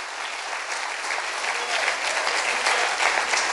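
A congregation at a pastors' church gathering claps together, a thick, steady wash of many hands that grows a little louder and stays close and sustained throughout.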